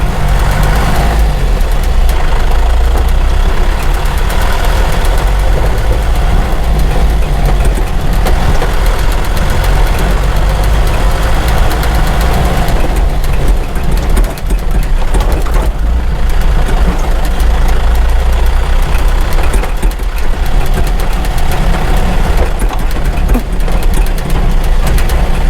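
A vehicle engine running at low RPM with engine braking while going downhill on a narrow road, a loud, steady low rumble that holds for the whole stretch.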